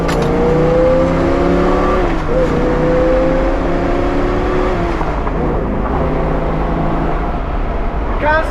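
A numbers-matching 1968 Chevrolet Camaro with a 327 V8 and four-speed manual is driven, the engine droning loudly and steadily with audible gear changes, and someone talks over the engine noise.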